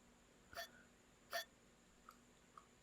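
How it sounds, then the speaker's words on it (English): A cartoon cat in a video game hiccups twice, short clear squeaky hics about a second apart, followed by two faint soft bubbly pops, quiet and alone. "You watch baffled as the cat continues to hiccup, causing little bubbles to float out of its mouth"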